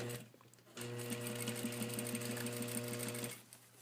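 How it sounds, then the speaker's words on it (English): A sewing machine runs a steady, rapid stitch for about three seconds while stay stitching along the outer edge of fabric, close and even in rhythm, with quiet moments before and after. "we're going to stay stitch this right on the outer edge"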